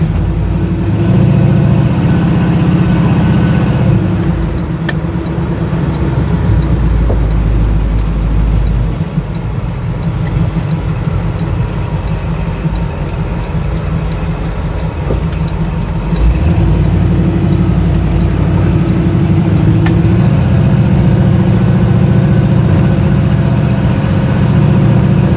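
A 1968 Chevrolet Nova SS on the move gives a loud, steady low engine drone with a deep rumble, easing briefly and then swelling again, heard from inside the car and unaccompanied by speech.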